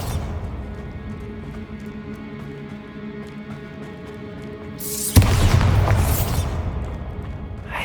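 A Bombarda blasting spell in Hogwarts Legacy bursts with a sudden loud boom after a calm stretch of game ambience, the explosion's rumble and debris rolling off over a couple of seconds.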